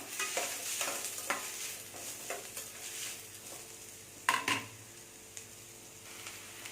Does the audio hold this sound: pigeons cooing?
no